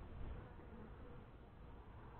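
Honeybees inside a hive make a continuous dense buzzing hum, steady and close with slight swells, no voices.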